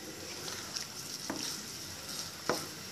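Sweet and sour chicken sauce, thickened with cornstarch, sizzles steadily in a hot pan while a spoon stirs it, with a couple of soft scraping strokes close by and no talk.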